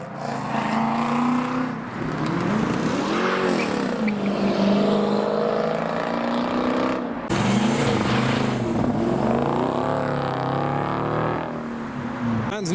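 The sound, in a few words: TVR car driving at show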